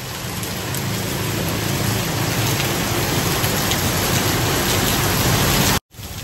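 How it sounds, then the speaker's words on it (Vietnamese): Heavy rain pours down steadily during a downpour in Hanoi, a loud, dense wash of drops on nearby surfaces that continues unbroken, with a brief dropout near the end. "Càng ngày càng mưa to"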